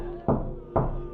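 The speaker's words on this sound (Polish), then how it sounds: "Słyszałem wyraźne pukanie w okno za zasłoną." Two distinct, sharp knocks strike a window behind a curtain, evenly spaced against a faint droning background in a creepy horror setting.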